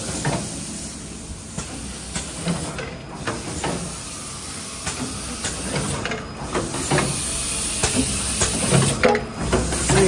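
A fully automatic logo printing machine for milk tea and bubble tea cups runs with a steady hiss and mechanical clatter, plus repeated pneumatic bursts at regular intervals, close and loud.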